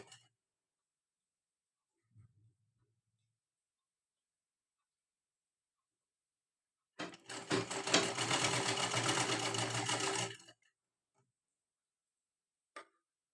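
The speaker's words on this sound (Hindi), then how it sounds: "ये पट्टी इस तरह से रखनी है और सिलाई लगानी है" A sewing machine stitches a strip onto a princess-cut blouse in one steady, loud run of about three seconds, its rapid needle chatter set between long quiet gaps with only a couple of faint clicks.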